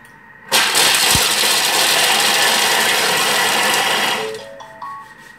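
Food processor blitzing handfuls of shelled walnuts into pieces, a loud steady mechanical whir that starts abruptly and runs for about four seconds before winding down with a few clicks.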